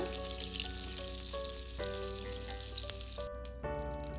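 Butter melts in a pan for jhaneko momo, giving a steady, close, gentle sizzle and crackle throughout, with a faint tonal hum beneath and no talking.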